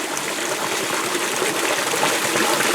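Fresh spring water runs in a small mountain stream near its source, a close, continuous trickling and bubbling with no other sounds.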